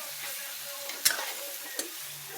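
Masala frying and being stirred in a pan for chicken gravy, giving a soft steady sizzle with a few scraping stirs and one sharp clink of the utensil.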